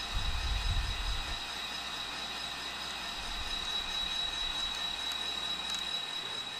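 An N scale model train runs along its track with a steady low rumble and faint clicking, a thin high whine above it and no voices.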